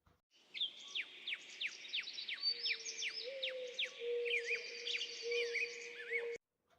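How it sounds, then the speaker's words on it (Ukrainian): Birds chirp in a forest with a quick series of sharp, repeated downward tweets, then warbling calls over a steady whistling tone. "У лісі ми можемо почути звуки птахів, комах, тварин, а також можна почути, як дме вітерець."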